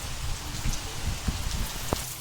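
Steady rain pours over a Gujarati village, a dense, continuous patter with a few heavier drops striking close by.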